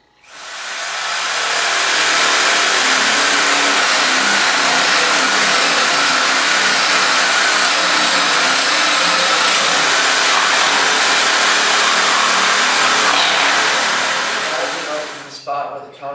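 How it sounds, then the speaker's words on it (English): Power drill boring the pivot-point hole through a wooden trebuchet, a loud, steady high-pitched whine held for about fourteen seconds close up, ending abruptly with a few clicks. "Drill the hole for the pivot point"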